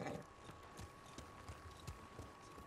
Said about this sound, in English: Nobu, my trusted horse, mount.